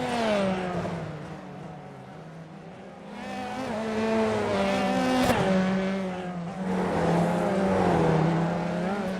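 Formula 3 race cars circle the Belle Isle street circuit at the Detroit Grand Prix, engines holding a steady high drone that rises and falls through the corners, loud and continuous with no talk.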